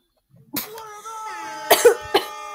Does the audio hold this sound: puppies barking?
no